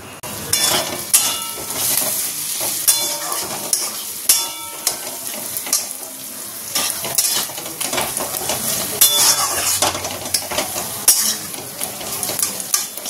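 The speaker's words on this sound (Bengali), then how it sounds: "দেখো ঘুগনিটা করবো, মশলা খুব ভালো করে কষানো হয়ে গেছে। এবার তেলও ছেড়ে দিয়েছে।" Spices and masala sizzle in oil in a pan for ghugni, with repeated scraping and clinking stirs from a metal spoon against the pot, close and busy throughout.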